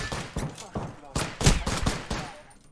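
Gunfire in Apex Legends, a quick series of sharp, loud shots in irregular bursts, close by, with gaps between them.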